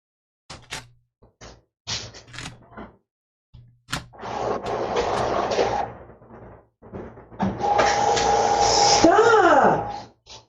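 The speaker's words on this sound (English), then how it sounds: "Sounds like Mom is having some printer difficulties." A home printer works through a job nearby: scattered clicks and clunks, then two stretches of whirring feed noise, the last rising into a mechanical whine and sweep, with voices heard now and then around it.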